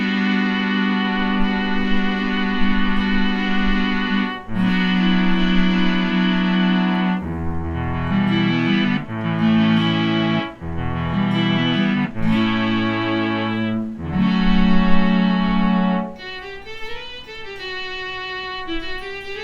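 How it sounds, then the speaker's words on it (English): Strings patch on a vintage Yamaha FB-01 FM synthesizer playing a sustained chord progression, bright and slightly cheesy lo-fi tones with audible chorus-like shimmer, loud and alone, ending in a wavering run of higher notes. "Here's a nice patch, strings."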